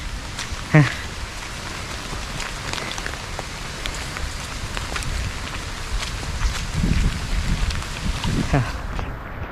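Steady monsoon rain patters through a forest, with drops crackling on leaves and sandy ground nearby and a few louder splashes standing out.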